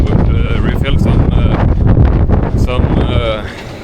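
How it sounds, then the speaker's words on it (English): Strong wind gusts roar steadily across a microphone in Rostock harbor, Germany, during a sailing trip, a dense, rumbling buffet that runs throughout with a voice talking over it. "A whole lot of wind today, so yeah, we stay in harbor today as well"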